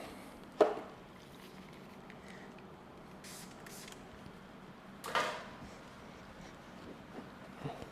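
Cleaner is sprayed onto the tail light of a 2022 BMW G80 M3 Competition xDrive, giving a few short, faint hissing spritzes spaced apart over a quiet background.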